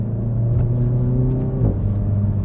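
A car engine in an automatic car driven in manual mode holds high revs in third gear through a long left-hand corner, a loud, steady in-cabin drone that dips briefly and recovers as the car tips in.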